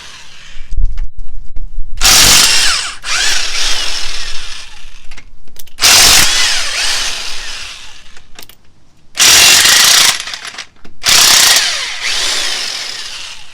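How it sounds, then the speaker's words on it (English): A Harbor Freight electric half-inch impact wrench takes the wheel off a Ram truck, firing in four loud rattling hammering bursts separated by quieter gaps and clatter. "I have the luxury of an electric 1/2-inch impact wrench that I picked up at Harbor Freight"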